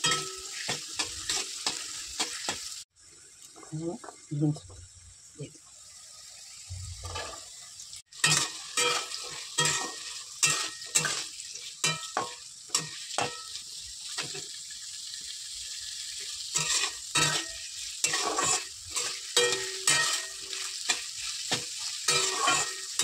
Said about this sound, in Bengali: এখানে গাজরগুলোকে লাল লাল করে ভেজে দেবো